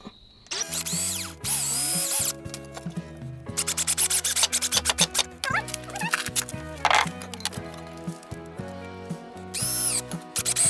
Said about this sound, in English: I went and got the drill.